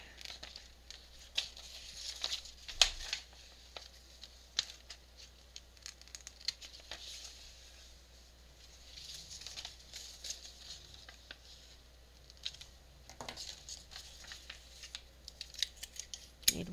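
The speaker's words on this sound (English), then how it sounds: "let me just cut off some of this excess tape" Scissors snip away excess tape on a paper ephemera craft project, a series of close, crisp cuts with light crinkling and rustling of tape and paper between them, no talking.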